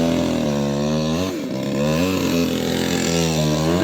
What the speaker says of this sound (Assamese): গছ কাটি আছে